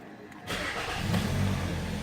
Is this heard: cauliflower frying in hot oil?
no